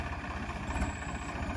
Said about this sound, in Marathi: घेतलं ट्रॅक्टर दमादमाने चाललं आता.